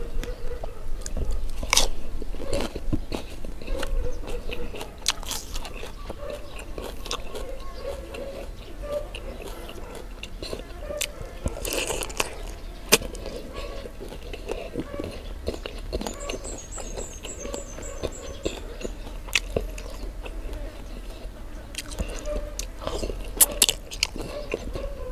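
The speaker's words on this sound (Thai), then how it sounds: "ผักอันนี้ก็กรอบกรอบครับมันอ่อนดีครับ" Crunchy fresh vegetables being chewed alongside a spicy Thai chicken feet salad, with soft, close crunching and wet chewing bites repeating steadily under a quiet background.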